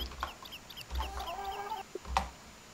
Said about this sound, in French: J'ai une poule dans ma chambre, je vais en mettre une autre ici.